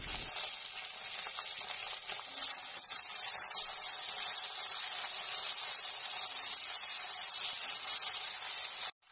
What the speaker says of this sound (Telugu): రెండు ఆనియన్స్ ని చిన్న చిన్న ముక్కలుగా కట్ చేసుకొని దానిలో వేసుకొని బాగా ఫ్రై చేసుకోండి